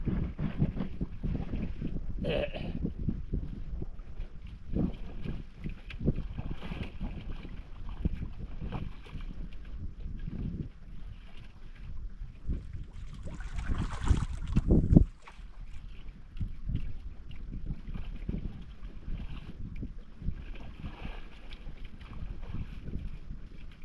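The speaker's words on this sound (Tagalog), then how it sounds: "Ang hangin." Wind blows at sea around a small fishing boat, steady rushing gusts buffeting the microphone with water sloshing against the hull and a sharp thump near the middle.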